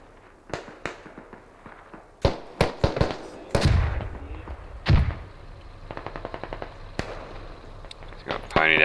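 Grenade blasts and gunfire in the tactical shooter Squad: a string of sharp cracking shots, a couple of heavier low thumps in the middle, then a rapid burst near the end, with voices talking in between.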